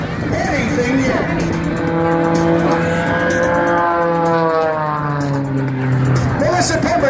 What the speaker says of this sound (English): Amir, there's the jet truck.